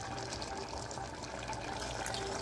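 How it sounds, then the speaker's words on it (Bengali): Water poured from a bowl into a pot of mutton and potato curry, a steady close gush of liquid running for a couple of seconds without a break and without talk. "আর 1 বাটি জল দিলাম।"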